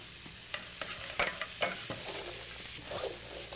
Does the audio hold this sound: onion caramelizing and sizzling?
yes